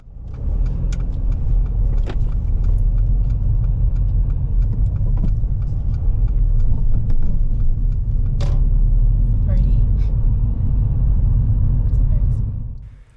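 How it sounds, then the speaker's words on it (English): A car's engine labours with a low, steady rumble after being shifted into second gear too early at low speed, on a 20 mph road. The drone runs loud and continuous throughout, with a few faint clicks and rattles from inside the cabin. "the car initially struggles with the gear change"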